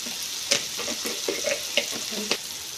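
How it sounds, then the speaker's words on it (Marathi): Ground spices with turmeric, coriander powder and oil sizzling and frying steadily in a pan while being made for spicy pasta, with a few sharp stirring clinks over the continuous crackle. "आता हे व्यवस्थित बारीक भाजून घेणार आहे अगोदर"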